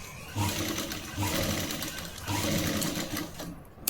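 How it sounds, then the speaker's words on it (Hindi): A sewing machine stitching fabric strips into bias binding, a loud close rapid whirring run in bursts with short pauses between them. "उसके बाद हम इसे सिल देंगे"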